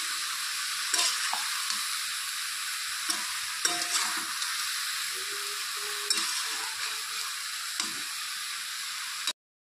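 Cut vegetables, potato and eggplant, frying in oil with fish in a pan while being stirred, a constant hissing sizzle broken by scraping spatula strokes and soft knocks against the pan, without talk.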